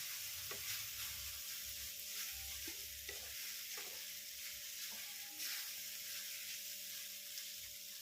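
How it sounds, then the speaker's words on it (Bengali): Boiled vermicelli tossed and fried in a pan gives a low, steady sizzle, with scraping stirs and soft knocks of the spatula recurring every second or so, close and quiet. "দিয়ে এইভাবে নেড়ে নেড়ে এটাকে ভেজে নিতে হবে।"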